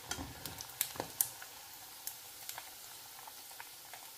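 Already-cooked, browned food dropped back into hot oil to crisp, giving a faint, steady frying sizzle with a few soft pops and spatters early on, no voices.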